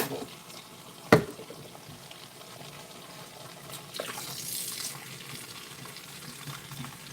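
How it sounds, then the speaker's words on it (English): Water runs from a household tap in a steady, soft broadband wash, with a sharp knock early on and a brief brighter surge midway, no talking. "I'm running some water right now."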